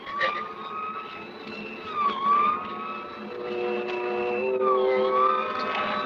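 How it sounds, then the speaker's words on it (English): A siren in an old-time radio drama wails with steady rising and falling tones, somewhat distant, continuing for several seconds over a low background hum. "We both heard the siren then."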